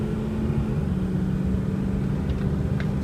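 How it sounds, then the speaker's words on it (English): A truck engine idles smoothly and quietly at close range, a steady low rumble with an even, unbroken drone and no talking over it. "Wow, what a nice running truck."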